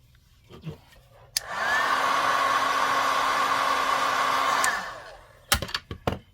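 A heat gun melts embossing powder on cardstock, its steady whirring blast running for about three seconds before cutting off, with a few handling clicks on either side.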